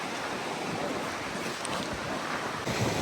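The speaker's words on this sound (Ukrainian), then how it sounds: "як хвилі, і слухати, як вони шумлять" Steady broadband wash of Baltic Sea surf rolling onto a beach at Kołobrzeg, mixed with gusty wind noise, continuous with no voices.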